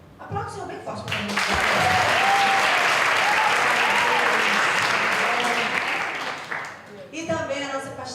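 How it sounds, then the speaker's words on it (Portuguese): A church event audience breaks into loud, sustained applause that swells for several seconds and then fades, with a voice speaking over it at the start and end. "Aplaude o Senhor bem forte para mim."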